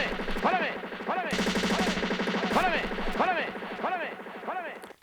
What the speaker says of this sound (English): that's not really a gunshot, but it kind of sounds like one. I think it's just like a drum roll from a dancehall record.